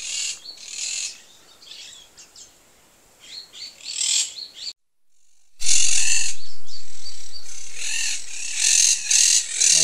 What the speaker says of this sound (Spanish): Ahí se ven los nidos de los loros que están enloquecidos.